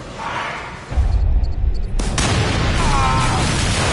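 Gunshots and heavy booming bursts from the horror video game Until Dawn, loud and repeated over a background of game sound, with a player's voice talking at points.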